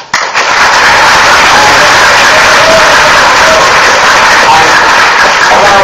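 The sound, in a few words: audience applause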